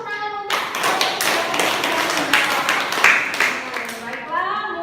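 An audience at a group discussion session claps together for several seconds, a dense wash of hand claps that begins abruptly and fades out as a voice resumes speaking.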